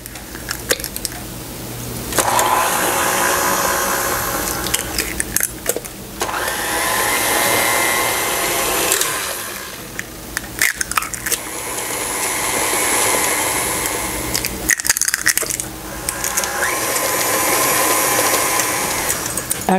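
Electric mixer beats eggs into pineapple cake batter in a bowl. Steady loud whirring runs in three long bursts with brief pauses between them, and no one talks.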